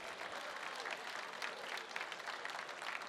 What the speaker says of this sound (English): how about a round of applause for our